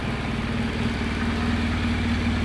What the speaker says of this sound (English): I stopped the engine quickly